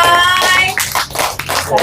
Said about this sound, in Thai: เอาปรบมือนะ